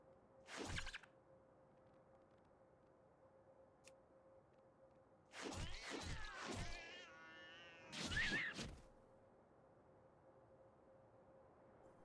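A cat pet in a World of Warcraft Dragonflight pet battle gives a short meow, then a few more clustered cries later over quiet game background with faint ticks, and no talking.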